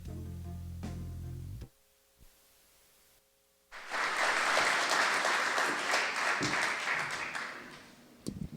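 Audience applause breaks out to welcome Rudy Trevino at a Texas Radio Hall of Fame ceremony, a loud sustained wave of many hands clapping that follows a short quiet pause and swells before tapering off.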